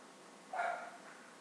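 A single short dog bark, faint and somewhat distant, against quiet background.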